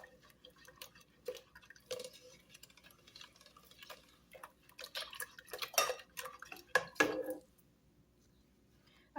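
Utensils clink and scrape against a bowl while mango jelly cake ingredients are stirred together, irregular taps and knocks growing busier and louder toward the end, with no talking.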